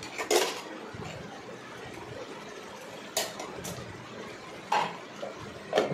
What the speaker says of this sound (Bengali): এবার আবার নাড়িয়ে নেবো।